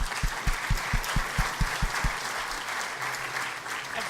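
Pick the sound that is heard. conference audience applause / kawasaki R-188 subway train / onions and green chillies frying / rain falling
conference audience applause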